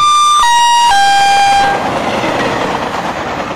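Humsafar Express train running from Delhi to Kanpur: a loud two-tone horn blasts at the start, then fades into the steady rumble and clatter of the train rolling along the rails.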